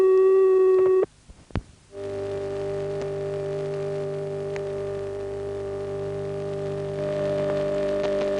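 Faint, steady hum of a transistorized number-unobtainable tone from a British telephone exchange, following a brief louder tone and a short click, then holding evenly with a small lift near the end.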